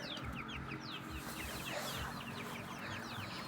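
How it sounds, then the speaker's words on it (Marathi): A hen and her small chicks cluck and peep close by, the chicks' thin cheeping repeating steadily over soft, low clucks. "आणि याच्यात कोंबडी आहे"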